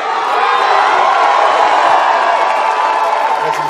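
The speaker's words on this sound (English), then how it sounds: "Lucky encouragement from the crowd." A studio audience on The Price Is Right roars with cheers and shouts during a game show wheel spin, a loud, sustained wall of crowd noise with no pauses.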